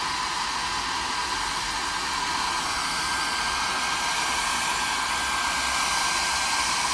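A hair dryer blows steadily and loudly for the whole stretch, drying a small handmade craft flower pot, a constant even rushing whoosh with no talk.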